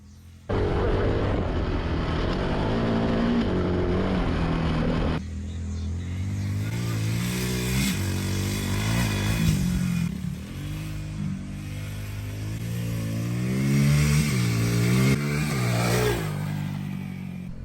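A mini jeep and a DR200 dirt bike race, with loud revving engines that rise and fall in pitch as they accelerate and shift. The engine noise is steady, close and continuous, with no voices over it.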